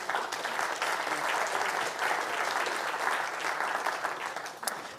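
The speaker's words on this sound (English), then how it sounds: "Maybe you could give them a round of applause." An audience at a constitutional panel event gives a steady, dense round of applause, many hands clapping together at an even level throughout.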